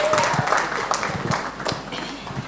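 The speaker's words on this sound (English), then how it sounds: "So let's give her a round of applause" A workshop audience applauds a woman business owner, a dense patter of hand claps at moderate distance, steady and sustained through the moment without speech.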